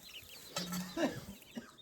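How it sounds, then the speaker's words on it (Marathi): A hen in a poultry brooding room gives a few short, close clucks in the middle of an otherwise quiet stretch, with a faint later cluck. "बघ आपल्या इथे कोंबडी पण आहे,"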